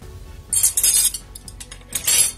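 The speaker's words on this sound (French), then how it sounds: "je vais prendre mes aiguilles, pardon pour le bruit" Light metallic clicks and clinks of size 7 knitting needles tapping together, in quick irregular bursts with short pauses, close by and without any talking.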